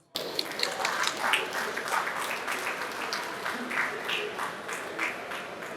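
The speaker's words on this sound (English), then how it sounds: "Please a further round of applause" An audience at a national conference breaks into applause. The clapping starts abruptly, then stays dense and sustained, moderately loud and a little distant, with no speech over it.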